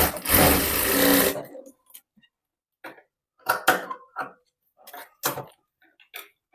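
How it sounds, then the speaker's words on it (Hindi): A sewing machine stitches a fabric strip on a designer long blouse in a tailoring workshop, running in one loud steady burst before stopping. Sparse taps and small handling sounds follow, with no speech. "अब पट्टी की तरफ एक सिलाई लगा रही हूँ।"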